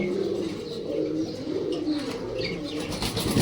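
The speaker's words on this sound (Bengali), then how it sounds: "আর এটা হচ্ছে অরেঞ্জ চিলা তাদের দুটো বাচ্চা আছে বাচ্চা সহকারে" Orange chila pigeons coo in a continuous low, throaty murmur with their two chicks nearby, soft chirps flickering above the steady rumble.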